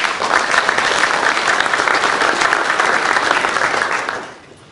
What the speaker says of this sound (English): I think it's worth an applause.